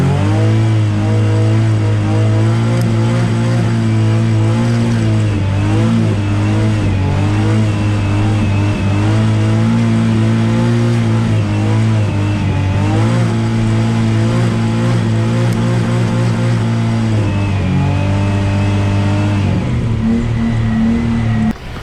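A Nissan 350Z engine screams steadily near its rev limiter in first gear while drifting on snow, a loud, sustained high-rev drone that wavers slightly as the throttle and wheelspin shift.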